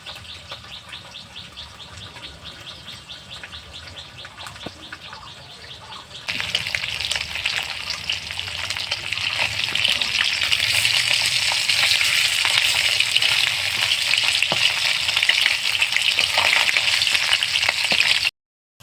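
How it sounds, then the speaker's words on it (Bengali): Small chela fish frying in oil in a home kitchen: a soft crackle that suddenly swells into a loud, dense, continuous sizzle, with faint bird chirps outside and no voices. "তো মাছগুলো ভাজা হয়ে গেছে,"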